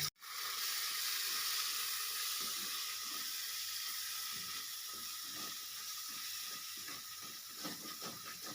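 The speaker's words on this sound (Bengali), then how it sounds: "এক চামচ ধনিয়ার গুঁড়ো থেকে দেড় মিনিট মতো আমি মশলাটা ভালোভাবে কষিয়ে নেব" Ground cumin and coriander sautéing in hot oil gives a steady, soft hiss and sizzle throughout, with faint stirring scrapes toward the end and no voices.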